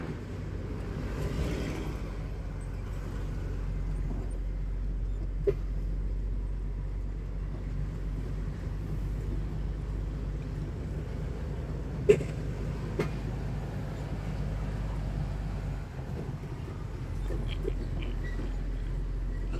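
A heavy truck carrying 65 tons of steel rebar drives slowly over a damaged road, its deep low engine rumble droning steadily from inside the cab with a few faint knocks and rattles.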